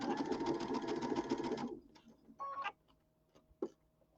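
Sewing machine running steadily while stitching a pillow, a loud continuous mechanical whir lasting about a second and a half before stopping, followed by small clicks and handling noises close by.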